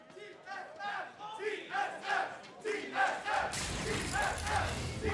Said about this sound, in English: You can hear the roars of the crowd.